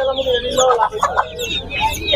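Hens at a Savar Hemayetpur poultry and bird market cluck in short, loud bursts close at hand, with people talking among them.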